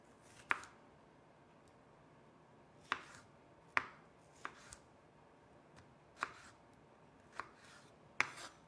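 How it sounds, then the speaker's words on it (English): A knife chops vegetables into thin slices on a cutting board, giving about ten sharp, quiet taps spaced irregularly with soft pauses between them. "And then chop those into thin slices as well."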